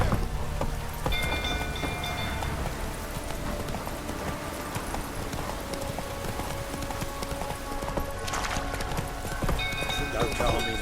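Roach the horse gallops in The Witcher 3 during a burning-stable scene, brisk hoofbeats running beneath a noisy backdrop of crackling and commotion, with voices and shouting mixed in.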